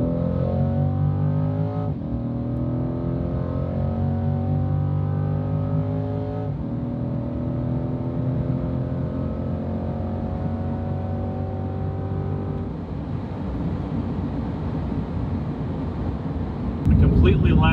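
A 2020 Corvette with a Soul Performance exhaust and sport cats pulls hard at full throttle, its engine note climbing through the gears with shifts in between, loud and close from inside the car.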